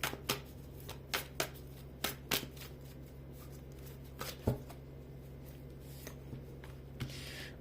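Tarot cards are shuffled and riffled in irregular quick bursts, soft slaps and flicks close by over a low background hum, with no talking.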